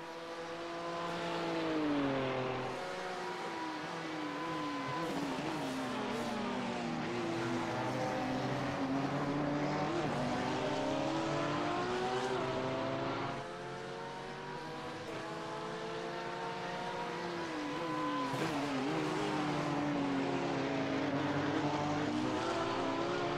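BMW and Porsche race cars battling on the Sebring circuit in iRacing: loud, close engine howls rising and falling through gear changes, with two cars' notes overlapping and sustained over more than twenty seconds.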